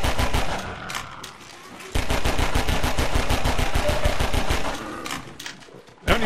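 Rapid bursts of automatic gunfire ring out in Half-Life 2, a fast regular rattle of many shots that pauses briefly and resumes, loud and close, with a voice talking over it.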